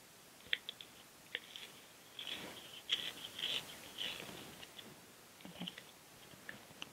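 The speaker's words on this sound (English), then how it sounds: "you want to sharpen one end only so that it goes smoothly through your two-tier cake" A standard pencil sharpener sharpens one end of a cake dowel for a two-tier cake: soft, quiet bursts of scraping and grinding with scattered small clicks, loudest in the middle, with no talking.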